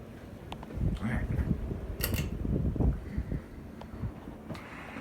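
A Casablanca Four Seasons 3 ceiling fan spins fast with a slight wobble, giving a soft steady whir with occasional light ticks and clicks, fairly quiet and close.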